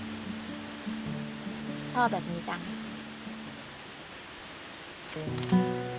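Rushing water and fine spray of a waterfall in Baan Pok, a mountain-valley village in Chiang Mai, Thailand, form a steady broad hiss beneath nearby talking.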